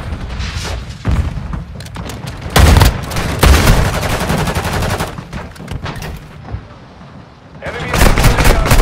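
Gunfire in the mobile shooter game Warzone Mobile, loud bursts and rapid cracks coming in clusters across a busy battle, with voiced game callouts mixed in.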